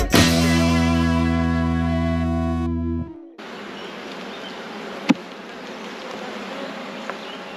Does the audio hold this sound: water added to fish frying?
no